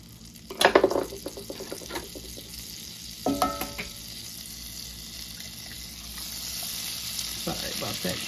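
Butter and oil sizzle in a breakfast frying pan with a soft continuous crackle, broken by a few louder clatters and knocks of utensils near the start and middle.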